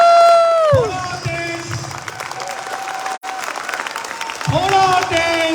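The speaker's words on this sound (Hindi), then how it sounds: "तो एक बार जोरदार तालियां हो जाए Modicare के लिए." Loud audience applause fills an auditorium during a Modicare event at Talkatora Auditorium in Delhi, clapping swelling after a speaker's short call and continuing steadily, with brief talk over the crowd.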